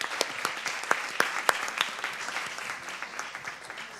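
An audience at a human rights and feminism forum applauds the translation team. The clapping is lively and fairly close, with a few sharp, distinct claps standing out, and it fades slightly toward the end.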